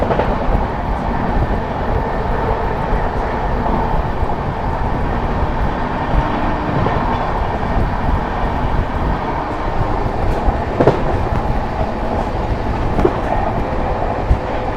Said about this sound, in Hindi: अपनी Mau Anand Vihar superfast express overtake करने जा रही है